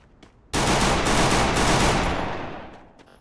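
Gunfire in the video game Free Fire, heard as a sudden loud burst of rapid automatic shots that rolls on for about two seconds and then fades away, with a few faint clicks before it.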